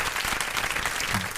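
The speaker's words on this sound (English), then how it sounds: "we got to give a round of applause for that." Steady applause from a crowd, a dense continuous patter of clapping hands at even loudness throughout.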